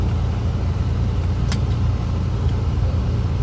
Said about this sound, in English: So it has HKS air intakes, cold air intakes, so I think it sounds pretty dang good.